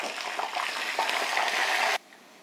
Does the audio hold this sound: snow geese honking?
no